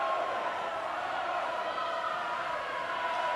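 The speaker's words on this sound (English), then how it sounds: "Hearing the cheers as he pops out of the water" A crowd at a boys' high school swimming championship cheers for a swimmer winning a race, a steady, loud, echoing roar that holds without a break throughout.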